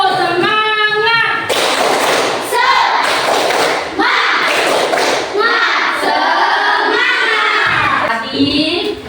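A primary school class performs a rhythmic spirit-clapping chant, bursts of group clapping and children's shouted chanting alternating in short patterned phrases, loud and close, with the teacher's voice between sections.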